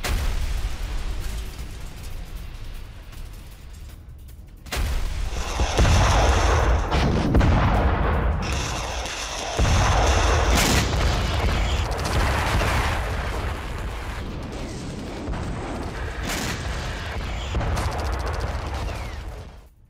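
Heavy booms and cracking blasts from artillery and airstrikes in fighting between the IDF and Hezbollah fire in a dense, continuous barrage, with loud bursts overlapping one another and no speech.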